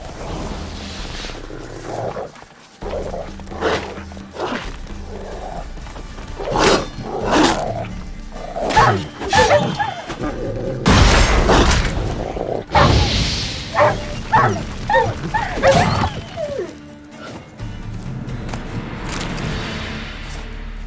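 A dog barks and yelps in The Witcher 3 as it is burned, with gruff growls and roaring bursts scattered over roughly twenty seconds and loud, crackling peaks in the middle.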